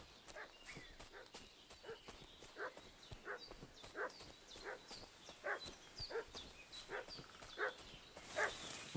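A dog in the video game Kingdom Come: Deliverance II barks repeatedly in a steady, insistent rhythm at moderate distance, with faint footsteps or hoof clops mixed into the background.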